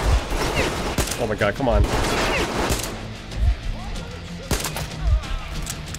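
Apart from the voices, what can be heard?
gunfire in video game Metro Exodus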